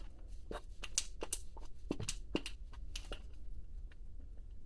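Small, dry crackling clicks and pops, irregular and quiet, from a thick ointment mixture being stirred close by, with no one talking.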